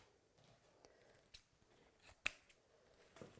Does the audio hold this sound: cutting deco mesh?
yes